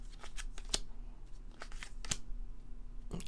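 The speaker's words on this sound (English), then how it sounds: "So we're just going to shuffle." Tarot cards being shuffled by hand, soft papery riffles and a few sharper snaps spaced across a few seconds, close and fairly quiet with no talking.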